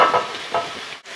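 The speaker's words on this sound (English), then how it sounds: "So my chicken stock is boiling, so it's time to just throw these cauliflower babies in the pot." Cauliflower pieces tipped into a pot of boiling chicken stock, producing a short burst of splashing and bubbling sizzle up close that fades quickly, with no talk.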